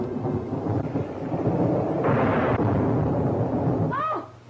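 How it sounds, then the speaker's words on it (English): Thunder during a storm: a heavy, continuous rumbling roar that swells and stays loud, ending with a brief high cry before fading. "It's a storm."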